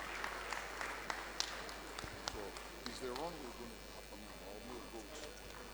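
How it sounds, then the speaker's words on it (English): Audience applause at a 2022/2023 season jersey unveiling for the football clubs Bendel Insurance FC and Edo Queens FC: a steady wash of scattered clapping with a few sharper claps, a voice speaking over it partway through. "A big round of applause."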